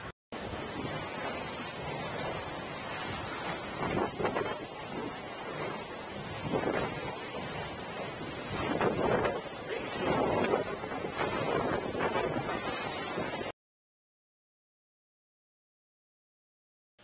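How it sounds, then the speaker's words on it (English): Storm winds of a cyclone lash the lowland between Basilicata and Campania in Italy, a loud, continuous roar of gusting wind and crashing waves that cuts off abruptly into silence. "Storm winds with the cyclone rotation around the lowland between Basilicata and Campania"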